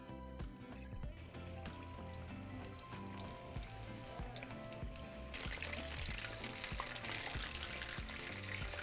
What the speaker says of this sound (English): now we are ready to fry them